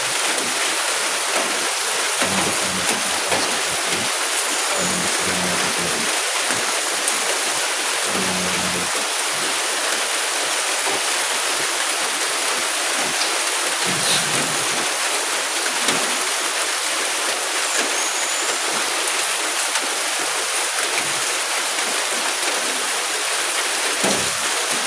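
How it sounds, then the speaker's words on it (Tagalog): Heavy rain pours down steadily in a mountain setting, a dense, loud and unbroken hiss that fills the whole stretch, with a few brief low thumps underneath. "Sobrang lakas ng mga ulan guys."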